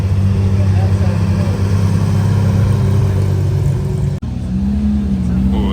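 A Gunther Works Porsche 911 roadster's engine makes a loud, close, steady drone with a brief dip and shift in tone near the end, heard on a street.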